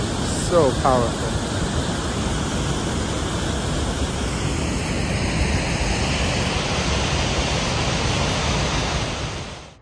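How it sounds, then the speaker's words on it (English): A powerful waterfall on Evolution Creek along the John Muir Trail roars as a loud, dense, unbroken rush close by, and a brief voice rises over it near the start before the sound cuts off at the end. "These waterfalls are so powerful."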